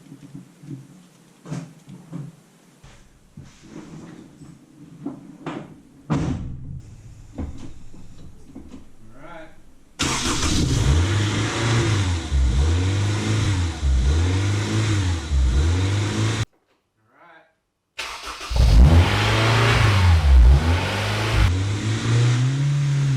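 A JDM Honda S2000 with an F20C engine, freshly fitted with a transmission, cranks and catches, then idles loudly and hunts with a rhythmic rising-and-falling surge, cuts off briefly, and restarts, running close by with no talk.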